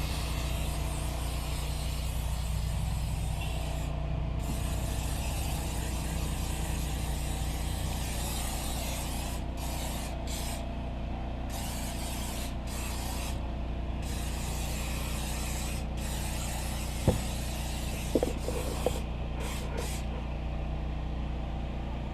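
Krown rust proofing sprayed inside a car's wheel well, a steady, continuous hiss of aerosol spray running throughout, with a few brief clicks near the end.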